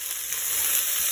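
Onions sizzle steadily in a heavy-bottomed pot, the first step of a Filipino chicken tinola ginger soup; a dense, even hiss fills the short stretch with no talking.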